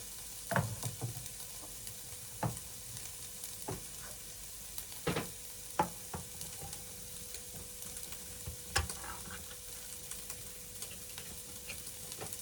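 Tuna frying in a pan while being stirred, a low steady sizzle broken by scattered clicks and scrapes of the utensil against the pan, fairly faint and without voices.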